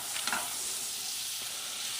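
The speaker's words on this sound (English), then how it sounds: "Chuck the butter in there" Butter sizzling in a hot pan with lightly seasoned steak for a late-night panini, a steady broadband hiss throughout with a brief louder crackle early on, close and alone without talk.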